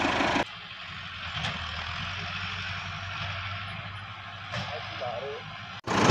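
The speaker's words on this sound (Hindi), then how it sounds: "लो जी ट्रैक्टर आप स्टार्ट कर लिया" Tractor engine running just after being started on a farm, a low, steady idling rumble that drones on close by while people talk over it.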